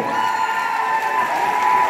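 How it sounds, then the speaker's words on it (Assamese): An audience cheers and claps for the Botany department team at a college week event, loud, dense and sustained crowd noise with no pauses. "হাত চাপৰিটো আৰু ভালকে বজাব লাগে তেওঁলোকৰ বাবে"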